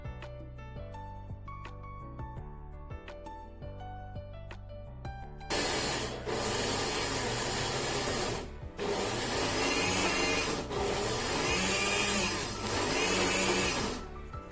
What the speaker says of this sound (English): In a mixer, pulse it gradually.